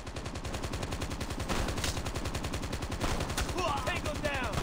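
Rapid automatic gunfire from a bot in Call of Duty Mobile, a steady fast stream of close shots running throughout with a few brief bursts of other game sounds.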